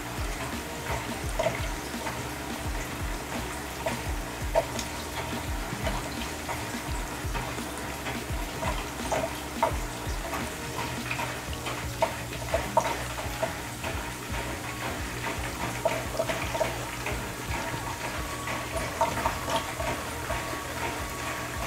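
An AquaClear hang-on filter converted into a surface skimmer draws water and surface scum in, giving a steady trickling, gurgling wash with faint ticking, continuous and moderately quiet throughout.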